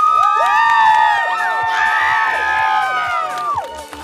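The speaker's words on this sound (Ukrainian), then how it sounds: "Давайте його привітаємо оплесками." Audience at a first-anniversary celebration in Ukraine cheering and shouting, children's voices whooping loudly and near over a dense crowd, continuous throughout.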